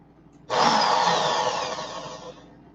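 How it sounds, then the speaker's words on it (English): A power drill fitted with a 27 gauge bit whirs up abruptly and runs steadily for about two seconds, loud and close, then tapers slightly as it winds down, with no talking. "I'm going to set up the 27 gauge in my drill"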